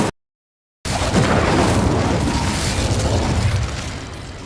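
Incendio fire spell cast in Hogwarts Legacy, a sudden loud fiery burst that roars on for a few seconds before gradually easing, heard after a brief cut of silence.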